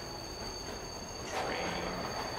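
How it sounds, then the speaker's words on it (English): A train passes in the video game Final Exam as a continuous rolling rumble, with a metallic squealing swell rising partway through over a steady high electronic hum, and no talking. "Train."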